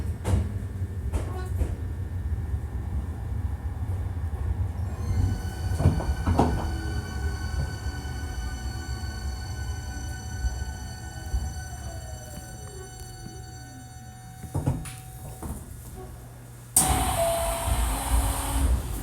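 Hankyu 1300 series train with an abnormal noise running between Tengachaya and Kita-Senri, a continuous rumbling interior ride with rising and falling motor whine, wheel clatter and squeal, ending in a sudden burst of hiss.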